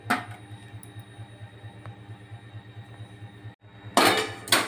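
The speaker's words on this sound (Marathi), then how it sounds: "आता आपण हरभरे, चवळी आणि मूग भाजून घेऊ" Chickpeas, cowpeas and mung beans dry-roasting in a pan, with steady clinking and rattling as they are stirred, then a loud scraping rush near the end.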